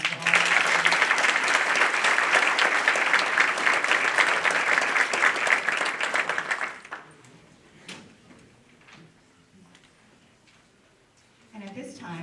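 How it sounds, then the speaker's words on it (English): Applause from the audience at a finance academy graduation ceremony, a loud burst of dense clapping lasting about seven seconds before fading into quiet room sounds with scattered small noises and a voice starting at the end. "Ladies and gentlemen, another round of applause for all."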